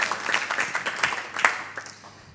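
A church congregation at a Sunday worship service claps together in a short, fairly faint burst of applause, scattered hand claps blending into a soft patter.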